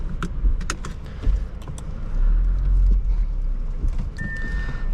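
A 2022 Audi S5 Sportback with a 3.0-litre turbo engine starts from inside the cabin, heard as a few clicks and key jingles followed by a deep low rumble that rises and settles into idle, with no talk.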